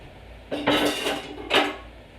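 Chopped onion dropped into a cooking pot for a Mexican tater tot casserole, making two quick close clattering bursts against metal, with no talk.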